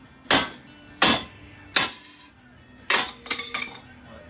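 A heavy hammer strikes an old steel road sign to break apart its welds. It gives four sharp, ringing metallic clangs at roughly even intervals, then a quick double hit with rattling after, loud and close in a workshop.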